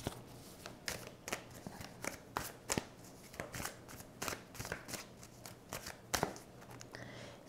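Tarot cards being handled and shuffled for the next draw make close, crisp riffling snaps and slides in an irregular rhythm of sharp flicks over soft rustling.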